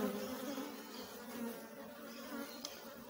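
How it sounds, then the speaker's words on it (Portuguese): Honeybees swarming in a hive, a continuous soft buzzing drone with overlapping wingbeat tones, faint and even throughout. "O enxame tá bem tranquilo, tá saudável."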